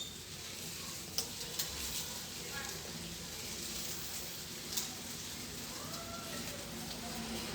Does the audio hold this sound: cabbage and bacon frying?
yes